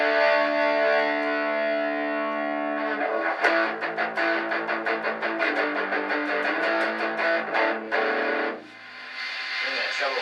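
A Peavey Rage 158 Transtube guitar amp pushes a buzzing, saturated distortion tone: a long sustained chord rings first, then a run of choppy strummed and picked notes, loud and up front.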